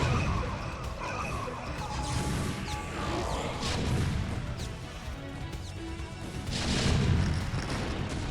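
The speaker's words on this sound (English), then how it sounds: "Oh, that was a nice mine hit as well." Spider mine explosions and siege tank fire from a StarCraft: Brood War match: repeated booms and crashing impacts over a dense, continuous battle din, swelling loudest near the end.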